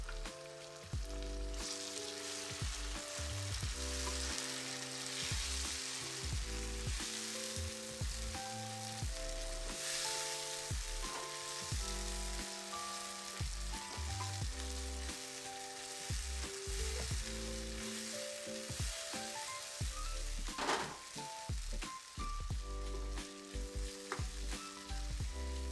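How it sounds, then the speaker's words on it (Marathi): Tomato puree sizzles and fries in a pan as the masala for a vegetable biryani, a steady close crackling hiss that runs on for about twenty-five seconds, with no talking. "आता याला फ्राय होऊ द्यायचं आहे सर्व. आता याचाच मसाला तयार होणार आहे आपल्याला बिर्याणीसाठी."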